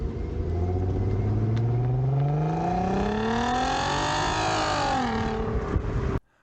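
A 2007 Volkswagen Passat wagon engine revs up steadily, its pitch climbing over several seconds, then drops back as the throttle eases before cutting off abruptly. The drone is loud and close throughout, with no talking.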